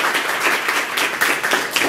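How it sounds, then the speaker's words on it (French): A crowd claps steadily and densely at a school kit distribution event, a continuous close wash of many hands. "Applaudissez pour vous."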